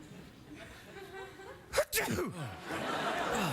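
A single loud sneeze bursts out close up on a late-night talk show, followed by a brief laugh and some breathy murmuring.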